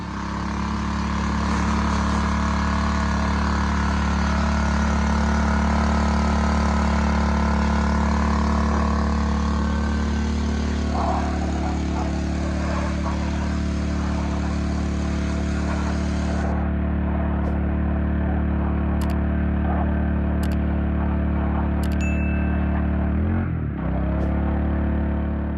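A pressure washer blasts 40 years of caked dirt, grease and grime off a John Deere 210 tractor: a loud, steady engine drone with a hissing spray that runs throughout, the high hiss cutting out about two-thirds of the way in.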